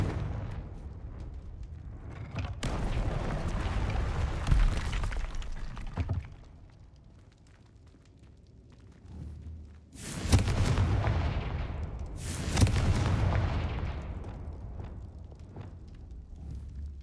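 Confringo blasting spells fired in Hogwarts Legacy, a run of heavy booming explosions with rumbling tails, two big bursts after a quieter gap, loud and close with no talk.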